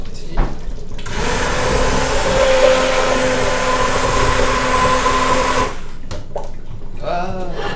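A kitchen blender whirs loudly and steadily for about five seconds while blending tomato sauce, then stops, and a voice speaks briefly before and after.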